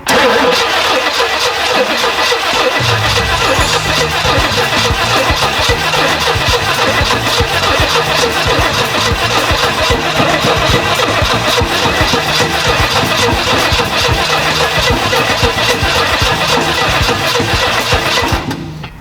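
A 1967 Jeepster engine cranks over continuously for about eighteen seconds, a loud, steady starter churn with a rhythmic chugging pulse that never catches, then cuts off abruptly at the end.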